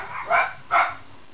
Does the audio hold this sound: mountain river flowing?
no